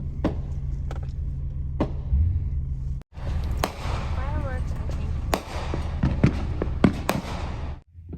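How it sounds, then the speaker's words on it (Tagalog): Fourth of July fireworks pop and crack in sharp bursts, some close and loud, others distant, over steady background rumble while people talk nearby. "Fireworks"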